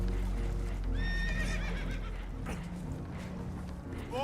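Horses whinny and neigh in Red Dead Redemption 2 while aboard a damaged, leaking boat, loud harmonic calls rising and falling over a steady low rumble, with hoof clatter and a faint background voice.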